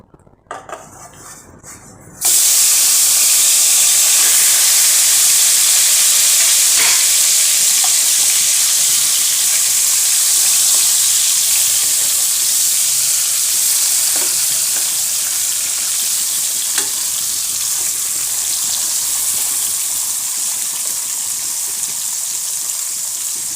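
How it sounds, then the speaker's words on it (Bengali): Fish pieces fry in hot oil in a pan, a loud, dense, continuous sizzle that starts abruptly after a brief quiet moment and holds steady, with faint utensil clinks and no talk. "মাছগুলো ভাজা হচ্ছে।"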